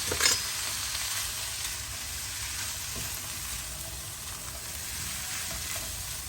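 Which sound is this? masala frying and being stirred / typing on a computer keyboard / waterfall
masala frying and being stirred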